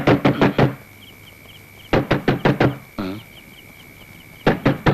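Knocks land on a door in quick bursts of four or five sharp raps, separated by pauses, loud and close.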